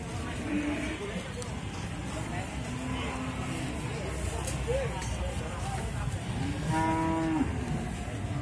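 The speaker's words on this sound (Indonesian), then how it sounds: "sapi betina yang ada di Pasar Iwan Mundilan" Cows moo several times at the Muntilan livestock market in Magelang, Indonesia, amid a busy crowd of murmuring voices and general market bustle, with one longer, louder moo near the end.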